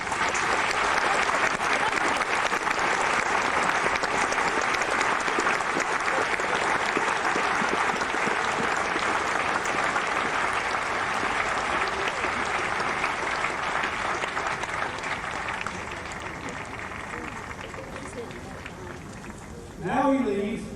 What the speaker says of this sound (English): I ask you now, all of us, to thank them with applause for their acts of courage over these decades.